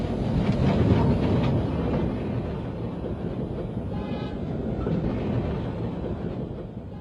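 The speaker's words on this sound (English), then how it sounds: "engine and coaches together formed a perfect period train from the turn of the century" A turn-of-the-century period steam train, engine and coaches together, rumbles along steadily with continuous rolling and wheel noise, loud and close throughout with some wind buffeting on the microphone.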